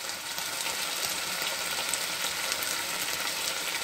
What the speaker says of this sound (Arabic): غنحرك هاد العناصر